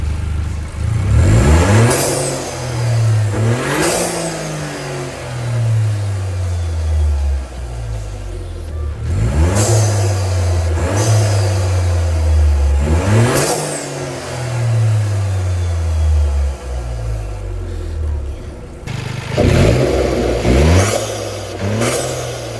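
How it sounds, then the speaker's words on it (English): A Toyota GR Yaris engine with a performance intake revs hard several times in succession, each throaty roar rising sharply then dropping back to a steady idle, loud and close. "So let's give it a couple of revs."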